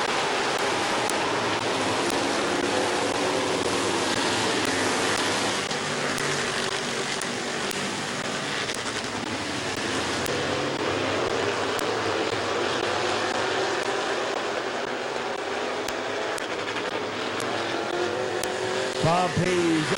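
Race cars lap Midvale Speedway around lap 22 in a steady, loud roar of engines that swells and fades slightly as the pack passes. An announcer talks over the racing throughout.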